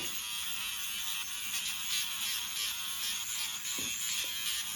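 A Flawless electric facial epilator buzzes continuously near the ear, a steady high-pitched motor whine with slight wavering and a couple of faint knocks near the end, no talking.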